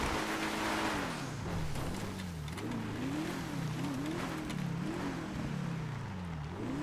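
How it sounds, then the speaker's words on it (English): A GTA video-game car engine sits pinned against the rev limiter, its loud droning note bouncing and wavering up and down steadily throughout with no talk over it. "Great deal of rev limiter going on here."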